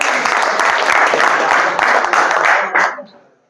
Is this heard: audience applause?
yes